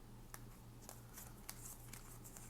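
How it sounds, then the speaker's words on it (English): Moon tarot cards, a 56-card deck, shuffled by hand in a quiet room, giving soft papery riffles and a few sharper flicks spread over a low steady hum. "The only downside is kind of like the shuffling."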